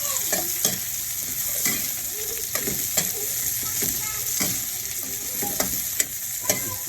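Shredded galunggong fish fries in a pan while it is stirred, giving a constant close sizzle punctuated by regular scraping and tapping of the utensil, with no voices.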